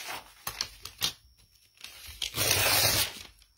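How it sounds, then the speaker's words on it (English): Paper is torn along a homemade tear ruler for junk journal pieces, heard as a few short ripping bursts followed by one longer tear, close and quiet with no voices. "So let me show you what it looks like if you tear with it."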